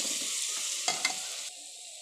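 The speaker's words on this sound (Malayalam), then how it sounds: "ഇതിന് ഇങ്ങനെ നന്നായി ഇളക്കി യോജിപ്പിക്കും" Chicken curry masala is stirred in a pan, a steady close-up scraping and sizzling with two sharper clanks of the spoon near the middle before the sound thins out. No one speaks.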